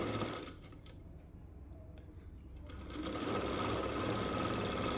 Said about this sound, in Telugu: ఇప్పుడు కింద అండి కింద ఇలా మలిపి స్టిచ్ వేసుకోవాలి